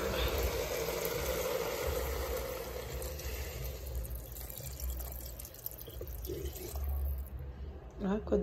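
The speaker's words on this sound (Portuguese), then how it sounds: "Misturei tudo, agora eu vou acrescentar água." Water running and splashing into a cooking pot while preparing lunch with saffron and colorau, a steady close pour that thins out toward the end over a low background hum.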